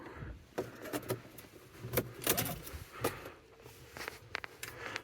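Keys jingle and clink as a Mercedes-Benz GLK350 X204 is switched on, a few faint, scattered metallic taps and rattles inside a quiet car.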